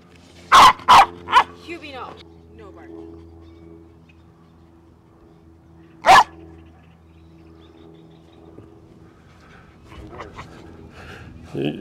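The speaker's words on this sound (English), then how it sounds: "I don't know why he's barking." A dog barks several times in quick succession on a disc golf course, then once more after a pause, with quieter panting and whining sounds and people talking nearby.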